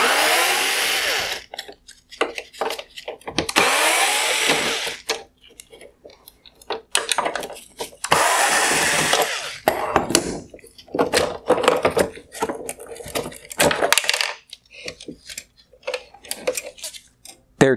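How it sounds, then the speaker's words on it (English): A power screwdriver backs out T20 screws from a 2016-2019 GMC Sierra full LED headlight housing, with several short whirring bursts separated by pauses, followed by rapid clicking and rattling handling noises, close and fairly loud. "Next, I'm going to remove the T20 screws holding on this LED light bar."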